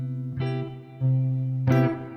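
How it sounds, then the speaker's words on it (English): Sustained, distorted guitar notes ring out with a washy SX reverb tail, two struck chords swelling and lingering, no voices. "But let's add some SX reverb."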